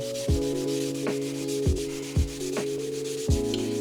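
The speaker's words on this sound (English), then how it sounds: "So, take this Scotch-Brite pad." A Scotch-Brite pad scrubs along an arrow shaft in short repeated strokes, about five sharp passes in under four seconds, close and clear with no talking.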